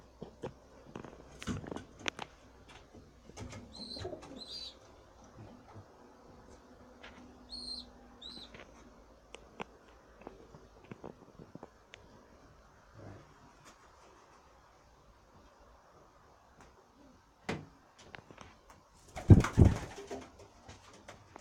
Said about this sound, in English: This blue one here, it's also a young bird.